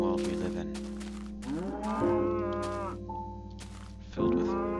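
Cows moo in a blocky sandbox video game, several long drawn-out lowing calls that overlap and follow one another, clear and close, with no voices.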